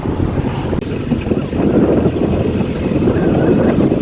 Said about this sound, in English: the wind is blowing across